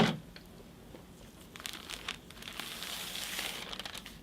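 Paper wrapping slid off the cape of a quarter-scale Hot Toys Darth Vader figure, giving soft, close crinkling and rustling that starts with a sharp touch and swells into scattered crackles, quiet with no talking.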